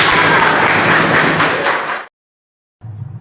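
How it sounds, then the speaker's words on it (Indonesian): Audience in a classroom teaching session bursts into loud, dense applause for about two seconds, then it cuts to silence before a short stretch of quieter room noise returns. "beri tepuk tangan yang meriah"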